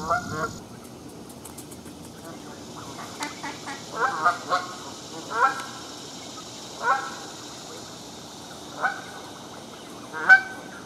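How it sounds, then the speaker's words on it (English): A duck quacks again and again at irregular intervals, the calls fairly close and clear against a quiet outdoor background, recorded on a Panasonic HC-V180 camcorder. "it would be favoring the sound coming from the direction of this duck, for instance, the quacking."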